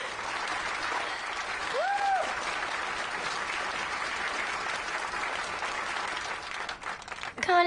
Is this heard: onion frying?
no